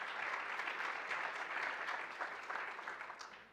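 Conference audience applause, a dense, sustained round of clapping from a seated crowd that holds steady and then tapers slightly toward the end.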